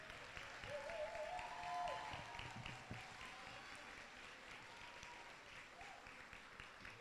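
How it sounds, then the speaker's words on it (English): Graduates at a university postgraduate reception stand and turn to applaud their families and friends, a broad roomful of clapping that swells over the first two seconds and then carries on steadily at a slightly lower level. "Stand and turn around and give a round of applause to your family and your friends"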